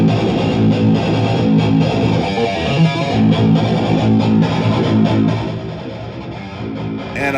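Heavily distorted electric guitar from a Mesa Boogie Mark III and Triple Rectifier being reamped, playing loud and dense through studio monitors. It is a continuous saturated wall of sound that eases slightly toward the end, with no one talking.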